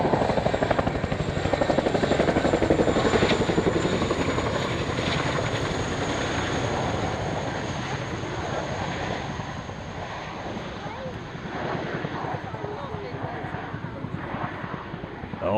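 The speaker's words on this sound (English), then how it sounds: "Oh, the fantastic Chinook." A Chinook helicopter flying, its loud, steady rotor chop pulsing throughout and fading slightly midway, with voices talking over it.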